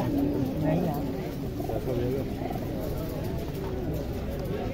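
Pigeons coo in low, repeated throaty calls at a busy Sunday pigeon market in Saddar, Karachi, with people talking over them throughout.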